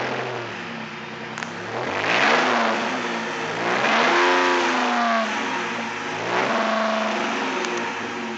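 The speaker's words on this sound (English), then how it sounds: "That's Flowmaster custom exhaust on a 2010 Dodge Challenger SE." A 2010 Dodge Challenger SE with a custom Flowmaster dual exhaust is revved up several times. Each rise and fall of the engine note swells and fades close by, with no talking.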